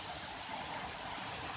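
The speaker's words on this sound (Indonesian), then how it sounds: "kita telah sampai di air terjun Pantai Rokan Hulu" Waterfall at Bolong, Rokan Hulu: a steady, broad rushing roar of falling water, continuous and fairly loud with no breaks, heard on its own without voices.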